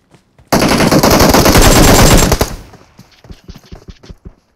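Gunfire in the Battlegrounds Mobile India video game: a loud, rapid burst of automatic fire lasting about two seconds, then a scatter of fainter single shots, with no talk.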